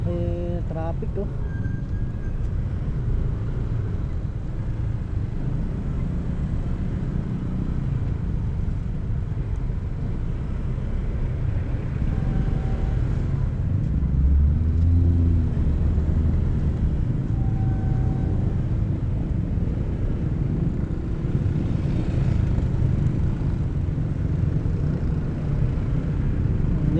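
Slow road traffic in Tagaytay near ongoing skyway construction: a steady, low engine rumble heard from inside a moving vehicle, continuous for the whole stretch, with faint muffled voices.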